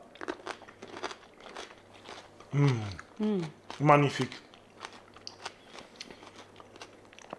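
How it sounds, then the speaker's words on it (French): Someone bites into crunchy balsamic pickled onions, giving a few close, crisp crunches in quick succession. A brief spoken word and quiet background sounds surround the bites. "Ça croustille sous les dents."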